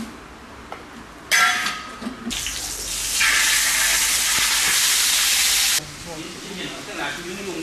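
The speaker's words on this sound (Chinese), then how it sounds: "先把这个鱼煎了" Codfish pan-frying, a loud hiss that bursts up and holds steady for several seconds before dropping back to a quieter background with kitchen clatter.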